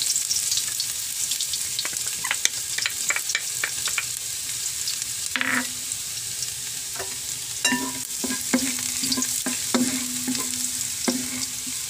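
Garlic sautéing in a heated cooking pot, a steady hiss of frying with scattered scraping and stirring knocks of a utensil against the pot, close and fairly loud, with no talking.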